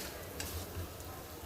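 Oil pitha, a Bengali fried sweet cake, sizzle quietly in a pan of oil, a faint steady crackle with a soft stirring scrape, no talk.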